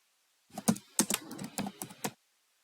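Quick, close keystrokes on a computer keyboard tap out a company name into an online registration form, a short irregular run of clicks heard alone in a quiet room.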